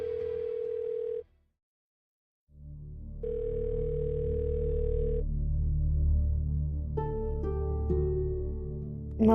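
An unanswered phone call rings out as a steady electronic ringback tone, heard twice with a gap of silence between, over a low background hum and a few faint higher beeps.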